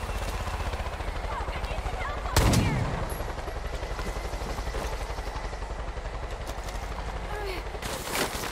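Gunfire in the video game Far Cry 5, with bursts of shots and a sharp loud blast partway through, over a constant noisy battle backdrop with voices talking.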